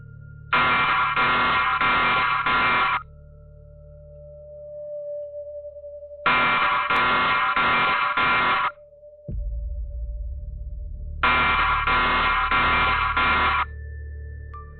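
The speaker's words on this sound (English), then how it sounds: "the home security system suddenly blares into life, shattering the silence" Home security system alarm blaring at night in three long, loud bursts of rapid electronic pulsing, separated by pauses filled with a low steady hum.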